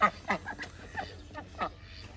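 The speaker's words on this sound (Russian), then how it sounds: "А вот там гуси. Пруд с гусями." Geese at a pond, a few near honking calls in quick irregular bursts, fairly loud against a quiet background.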